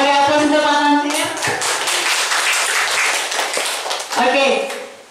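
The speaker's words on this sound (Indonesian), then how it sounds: "Kita beri aplaus untuk Pak Tamsir" Applause breaks out for Pak Tamsir at a school session on positive culture, a dense wash of clapping hands running through most of the stretch while a voice speaks over the start and end.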